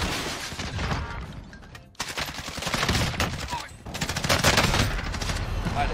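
An assault rifle, the Kilo, fires in Warzone in rapid continuous automatic bursts, loud and close, with a brief pause near two seconds before the firing resumes.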